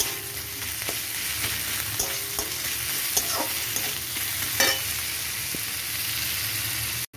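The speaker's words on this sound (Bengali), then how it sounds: "এবার দিয়ে দিয়েছি পেঁয়াজ বাটাটা। সবগুলো ভালো করে" Onion paste sizzling steadily in a pan as it is stirred, a loud close hiss with repeated spatula scrapes and taps, ending abruptly, with no talk.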